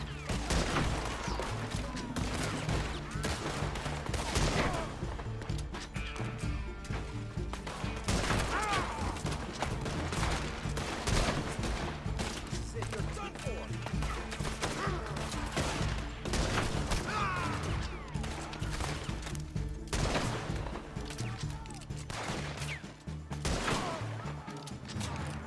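Springfield rifle fire in a video game, with repeated loud gunshots and heavy clattering battle noise filling the scene continuously, with occasional faint speech beneath.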